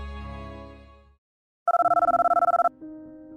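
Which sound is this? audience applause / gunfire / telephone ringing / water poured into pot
telephone ringing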